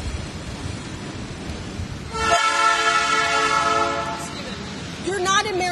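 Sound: train passing with horn

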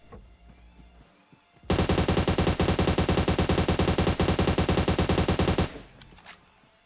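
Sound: gunfire in a shooting video game

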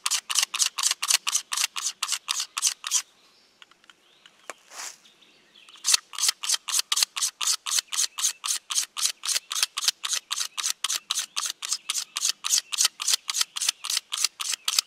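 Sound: scraping a rivercane arrow shaft

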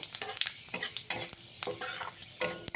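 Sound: dried chillies and five-spice tempering frying in fish oil

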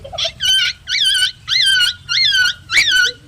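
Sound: child imitating a dog barking

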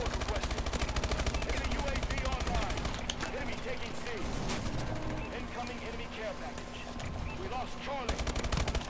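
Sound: hip-fire gunfire in video game Call of Duty: Advanced Warfare

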